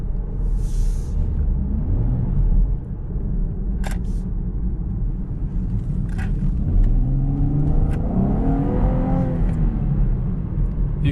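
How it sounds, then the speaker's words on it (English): 2019 Camaro LT V6 engine and exhaust accelerating in sport mode, a deep steady rumble heard from the cabin with rising tones as revs climb and quick gear shifts. "engine noise and exhaust noise in this car is phenomenal."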